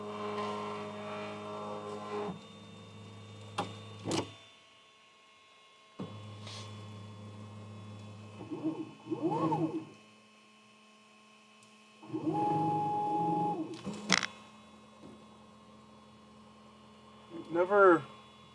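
A DIY toolchanger 3D printer moves in bursts, giving loud buzzing resonant hums and rising and falling motor whines separated by quieter pauses, close and mechanical.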